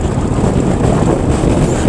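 Strong wind roars across the microphone at Umling La, a high mountain pass on the road from Hanle, a loud, continuous rumbling buffet with no voices.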